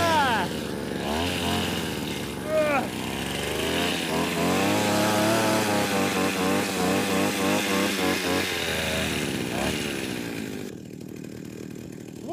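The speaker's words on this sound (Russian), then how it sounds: "Ну что ж, пила у нас прогрелась." A 1978 Soviet-made chainsaw engine, warmed up after starting, runs steadily at a high, buzzing pitch, rising and falling slightly, then cuts down toward the end.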